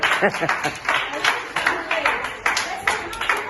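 Several people clap at a French-language radio campaign shoot in an irregular, fairly close patter of hand claps, mixed with voices.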